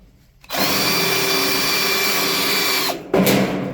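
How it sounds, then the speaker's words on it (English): A power drill fitted with a bit ground to a flat end whines loudly and steadily as it works into holes in painted metal, cutting out briefly near the end and then spinning up again. "Now I've got my drill, and then on the end of the drill I've just taken the point off"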